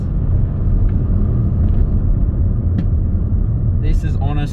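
Audi RS6 Avant Performance with a V8 engine driving by road, a steady loud low rumble of engine and road noise throughout, with a brief higher sound near the end.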